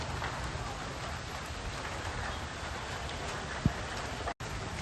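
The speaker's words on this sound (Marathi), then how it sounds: "आज पहिलाच पाऊस सुरू झाला" First rain of the season falling steadily in Prashik Nagar, Raver, a continuous, even hiss of rainfall with one brief knock partway through.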